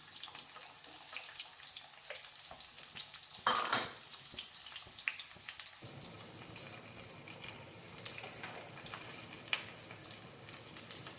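Cumin seeds and chopped onion fry in hot oil, a steady broadband crackle with a sharp burst as the onion drops in, then a denser, settled sizzle continuing alone.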